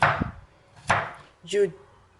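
A knife chops through coconut flesh in three separate, crisp cuts spaced evenly apart, close and fairly quiet, with no talking.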